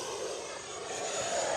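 A 90mm FMS Avanti S radio-controlled model jet makes a full-throttle pass, giving a steady, loud, broadband turbine roar that swells slightly as it goes by.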